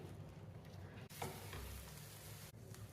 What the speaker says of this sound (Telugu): మూత పెట్టకుండా బాగా ఫ్రై చేసుకోవాలి